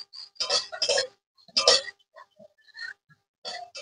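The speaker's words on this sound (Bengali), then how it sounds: "এবারে এগুলো আমি শুকনো খোলায় ভেজে নেব" Whole spices for a raw mango pickle are dry-roasted and stirred in a dry pan: sparse, close, sharp clinks and scrapes of a utensil against the pan come in short irregular bursts with quiet gaps between.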